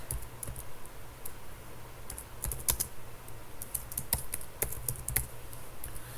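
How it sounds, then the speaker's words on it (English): Typing on a computer keyboard, with quiet, close key clicks tapped in short irregular bursts over a low steady background hum. "I'm going to type in default settings"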